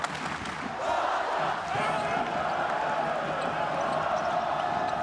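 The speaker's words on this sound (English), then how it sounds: "And now they're going to celebrate with their crowd." Darüşşafaka basketball players celebrating with their home crowd during a Basketball Champions League game against BAXI Manresa, a loud sustained roar of cheering and shouting fans in an arena, with a commentator's voice running underneath.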